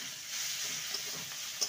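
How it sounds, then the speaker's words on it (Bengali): A bean dish is stirred and mixed in a frying pan with coriander, giving a steady soft sizzle and scraping of a spoon, with a couple of faint clinks near the end. "ভালো করে মিশিয়ে নেব।"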